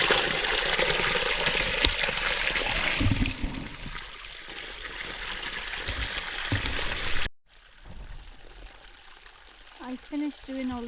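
Steady rushing water flows loudly through drainage trenches on a flooded farm in central Portugal for several seconds, then drops to a quieter trickle with a few faint voices near the end.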